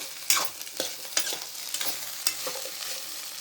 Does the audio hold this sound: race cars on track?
no